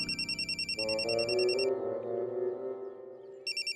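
A telephone rings nearby with a bright electronic trilling tone in two bursts, a low musical sting swelling in the pause between them.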